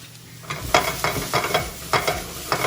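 Chopped garlic sizzles in a pot with translucent onions. A steady frying hiss runs under repeated scraping stir strokes, close and moderately loud, with no talking.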